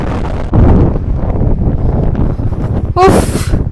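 Wind buffets the microphone during a night bike ride along the beach at Mandermani, a loud, rough rush with voices talking over it.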